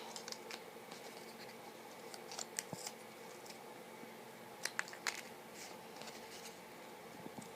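Scissors trimming about an inch off the bottom of a beading template, heard as faint, sparse snips and small clicks over a quiet, steady room background.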